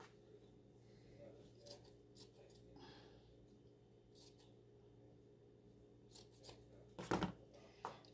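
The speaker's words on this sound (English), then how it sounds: "And then I'm just gonna cut it up." Scissors cut paper pieces for DIY fall home decor, a faint series of soft snips and rustles over a low steady hum, with a louder burst of cutting near the end.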